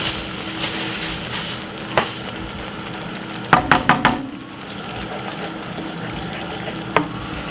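Tomato paste and sauce frying in a pan for shakshuka, a steady soft sizzle with occasional knocks and a quick burst of stirring taps midway, close and moderately quiet.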